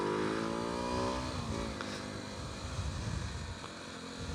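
A 2020 SWM Varez 125 motorcycle with an Arrow exhaust revs up with a rising, harmonic engine note, then settles into a rough, rumbling idle, close and fairly loud.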